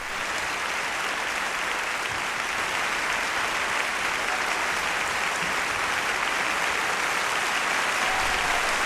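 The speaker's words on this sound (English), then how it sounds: "Let's give Angela Merkel, Trump Vaders, round of applause." A dense, steady round of applause from a crowd fills the whole stretch at an even, loud level, with no voices rising above it.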